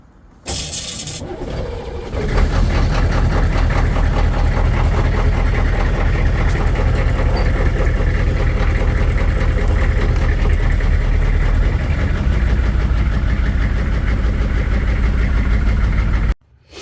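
A military HMMWV M1097R1 engine starts after a brief clatter and settles into a loud, close, steady diesel idle that runs evenly until the end.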